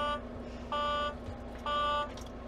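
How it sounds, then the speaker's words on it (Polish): A low air pressure warning in a Volvo VNL 860 sleeper truck cab. It sounds as two steady electronic buzzing tones, each lasting about half a second, heard over a constant low cabin hum with no talking. "to był alarm związany z tym, że było niskie ciśnienie układzie"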